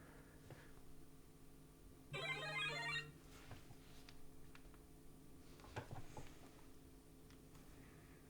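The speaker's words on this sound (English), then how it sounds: "Sorry about my phone going off." Electronic phone ringtone chirping for about a second in a quiet room, heard over a faint background hum during Destiny 2 gameplay narration.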